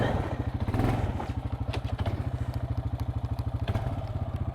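A Honda Foreman 450ES ATV engine runs steadily close by, its rapid even thumping pulse continuing throughout with some clatter and rattles over it, and no talk.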